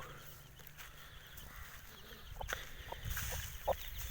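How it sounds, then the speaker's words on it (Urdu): A hen clucks softly while scratching through straw for her chicks on a Punjabi village farm in open fields, with scattered rustling and a few short clucks heard faintly over a steady outdoor background. "یہ آپ دیکھیں مرغی کے کام"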